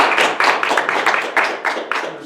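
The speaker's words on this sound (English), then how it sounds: "it sounds like 50 people clapping." A small audience claps steadily for a couple of seconds, the hand claps bunching into loose, irregular bursts that sound like a modest room of people.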